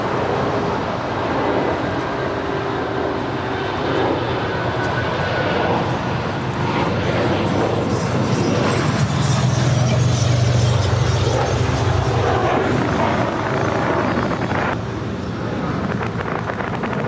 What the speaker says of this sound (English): That was Avianca Flight 641 coming in from Guatemala City, the A320.